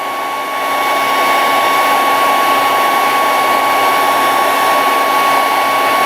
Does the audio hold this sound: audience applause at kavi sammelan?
no